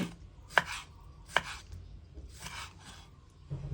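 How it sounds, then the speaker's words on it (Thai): Knife cutting cooled boiled pork skin into pieces on a cutting board for crispy pork rinds, with about four distinct chops, two sharp and two softer, close and alone. "เราก็เอามาหั่นเป็นชิ้น"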